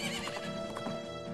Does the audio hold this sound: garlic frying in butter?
no